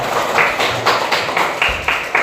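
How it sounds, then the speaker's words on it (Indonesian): A classroom of students claps for a classmate in a short, loud burst of hand claps that repeats in a quick, uneven rhythm. "tepuk tangan untuk Mbak Nada"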